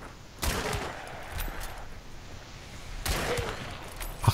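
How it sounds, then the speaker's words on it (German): Two sharp gunshots about two and a half seconds apart from a new 18-round gun in the video game Hunt: Showdown, fired at a zombie, each a loud crack with a short tail over quiet game ambience. "Soll ich mal gleich hier an dem ersten Zombie meine neue Knarre austesten?"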